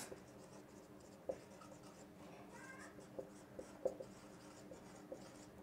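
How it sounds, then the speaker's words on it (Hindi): During a physics lecture on fluid pressure, chalk or a marker writes on a board in a quiet room, making faint scratches and soft taps with small knocks at irregular intervals. "तो यहाँ पे लिख रहा हूँ मैं प्रेशर डिफरेंस"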